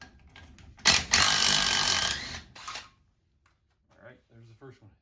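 Bus wheel lug nuts being removed with a low-torque impact wrench: about two seconds of loud, steady rattling hammering, then a shorter burst, with someone talking briefly before and after.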